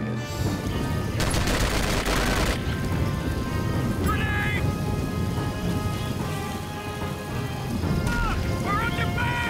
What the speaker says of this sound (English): Look, we're under fire!